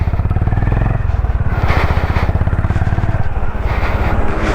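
A Honda CB350 Highness motorcycle on the move, its engine thumping in a steady, dense pulse close by with road rumble and wind, continuous and loud throughout.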